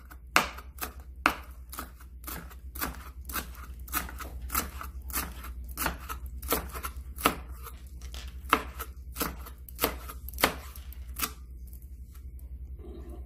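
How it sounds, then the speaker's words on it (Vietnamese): A kitchen knife finely mincing celery and cilantro on a cutting board while making lobster rolls, about twenty crisp, evenly spaced chops close by over a low steady hum, with no talking. "cắt thật là nhuyễn."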